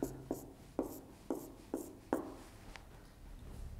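A pen or marker colours in part of a technical drawing, making a short series of close, scratchy strokes in an uneven rhythm that fade into quiet near the end.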